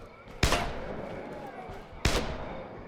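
Two sharp gunshots ring out in the zombie survival game State of Decay, spaced about a second and a half apart, each a loud broadband crack followed by a short decaying tail over a low game ambience.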